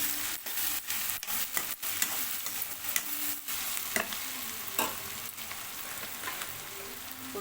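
Onions fry in a pan for a moong dal and fenugreek leaf stir-fry, crackling steadily up close while a spoon scrapes and knocks at irregular intervals. No voices are heard.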